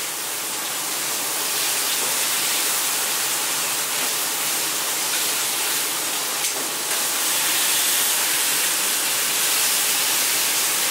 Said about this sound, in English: all we're doing here is we're searing